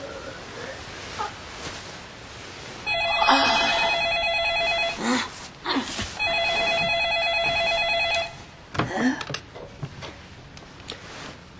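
A telephone rings indoors with two bursts of a bright, trilling electronic bell, each about two seconds long. Rustling and handling noise surround the rings.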